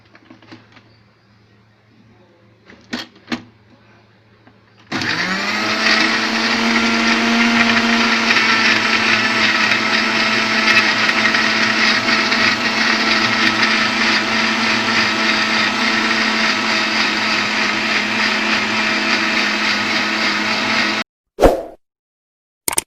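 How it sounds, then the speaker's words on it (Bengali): A kitchen blender grinds ingredients used to clean shing catfish. A few light clicks and taps come first, then a loud, steady whirring roar runs for about sixteen seconds before cutting off, followed by a brief clatter. "এখন আমি এগুলি ব্লেন্ডার করে ফেলবো।"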